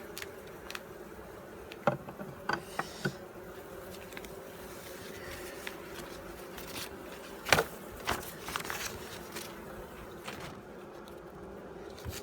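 Honey bees busy at a hive taking sugar syrup, a steady low buzzing drone with scattered louder passes and clicks of insects flying close by, no talking.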